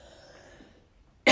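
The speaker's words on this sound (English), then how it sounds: "Sorry, just had to clear my throat." A single loud, harsh throat clearing bursts out close to the mic right at the end, after a stretch of near-quiet room noise; the person has a stuffy nose.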